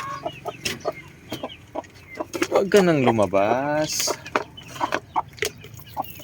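A brood hen in a backyard breeding pen gives a drawn-out, wavering cackle in the middle of scattered nearby clucks at feeding time. Someone talks to her briefly between the calls.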